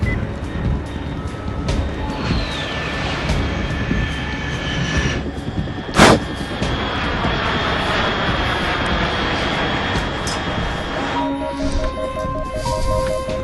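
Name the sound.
aircraft flying overhead in the video game Metal Gear Solid 3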